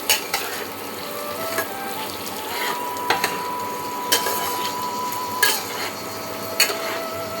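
Banana stem pulao with a little turmeric being stirred in a pan, giving a steady sizzle with sharp scraping clicks of the spoon at irregular intervals, no talking.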